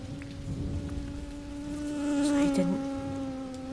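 A fly buzzes in the video game Dinkum, a close, droning insect hum with a steady pitch that swells louder near the end, with no talking.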